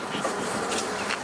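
Bees buzzing around flowers planted in farmland, a dense continuous hum of many insects close to the microphone, steady and fairly loud with no talk.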